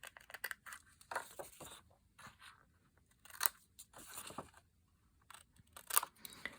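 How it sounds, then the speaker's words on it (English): Scissors snip at an angle across card corners while making a gift bag pop-up card, giving several short, crisp cuts in uneven bursts with quiet pauses between, close and moderately soft. "They can just be cut at an angle."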